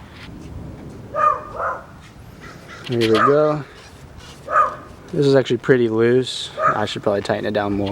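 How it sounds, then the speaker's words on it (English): A dog barks several times in the background, loud yelps coming in short bursts, while someone talks over them. "You can hear my dog in the background"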